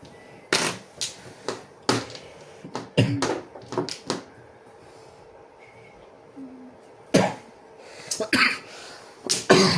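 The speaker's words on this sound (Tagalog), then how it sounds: "Kailangan lang palang umubo." Several bursts of coughing during a mahjong game, close and loud, come in short irregular clusters with quiet gaps between them. No one speaks.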